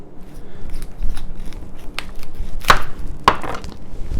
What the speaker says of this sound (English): So let me cut the bottoms off